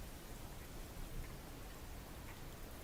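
Rain pours down in a constant, uniform wash of hiss. It stays steady throughout with no other sounds and no talking.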